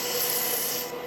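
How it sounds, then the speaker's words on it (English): Sandpaper wrapped around a sanding cone rubs against turned wood on a finial lidded box, a steady close rasping scrape that holds for about a second and then eases off slightly. "I could use my sanding cone"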